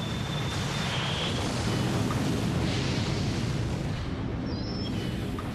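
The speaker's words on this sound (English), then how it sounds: "The rocket fuel burns with tremendous force, and as it thrusts down, it pushes the rocket up." A rocket engine fires at launch with a continuous, loud, rumbling roar that holds steady throughout, broad and powerful with no pauses.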